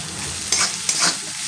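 Crushed garlic and chopped ginger fry in a pan for potato curry, giving a soft steady sizzle with two brief bursts of brighter crackle as they are stirred.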